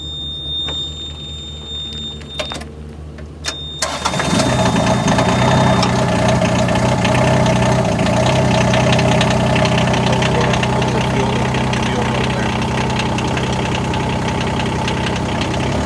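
A car engine cranks and catches about four seconds in, then settles into a loud, steady, slightly rough idle that runs on alone.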